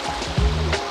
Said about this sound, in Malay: Jom kita panjat air terjun kecil ni